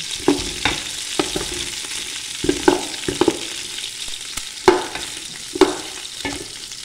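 Meat for Filipino pinapaitan toasts in a pan to render its fat, giving a soft steady sizzle broken by a series of sharp spatula scrapes and taps at irregular intervals, close by and without speech.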